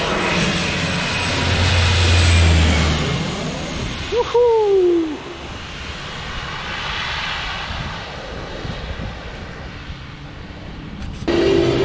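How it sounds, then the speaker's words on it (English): A jet airliner's engines roar loudly at takeoff at Maho Beach, a broad sustained rumble swelling over several seconds and slowly fading, with a person whooping close by. "We will feel a crazy jet blast right now."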